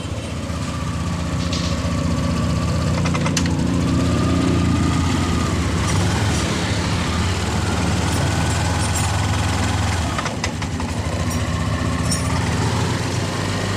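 A Yamaha NMAX scooter with a fuel pump fault that makes the throttle feel empty runs steadily and loud at close range, its engine drone rising and falling with throttle changes, with no talk over it.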